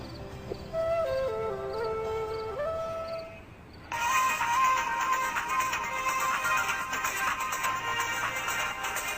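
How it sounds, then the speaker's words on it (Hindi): A phone ringtone plays a simple stepped melody, then gives way to a louder, denser ringing tune that keeps going with no voices. "फोन बज रहा है तुम्हारा"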